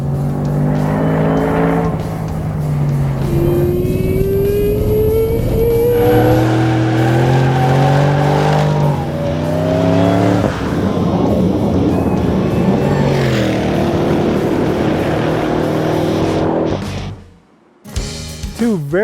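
A 2011 Shelby Super Snake on a road course revs hard under heavy throttle, its engine note climbing through the gears as the tires spin and squeal, loud and close for most of the run before cutting off abruptly.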